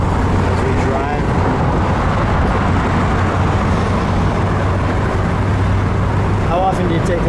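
A 1949 Cadillac Series 62 convertible cruising along with the top down, with a steady low engine rumble, road noise and wind rush close to the microphone.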